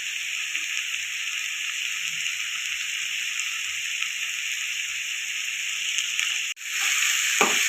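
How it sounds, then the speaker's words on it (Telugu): Maggi noodles and vegetables fry in a pan with a steady, loud, close sizzling hiss, broken near the end by a brief stir and a scrape of the utensil. "మ్యాగీ కొద్దిసేపు బాగా వేగాలి. కూరగాయలన్నీ వేసాం కదా, అవన్నీ వేగాలి."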